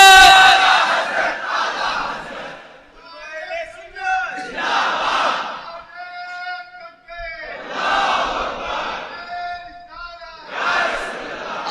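A large crowd at a religious gathering roars slogans back in unison, answering a leader's calls in four or five loud, sustained bursts with brief pauses between them, each response swelling and then falling away.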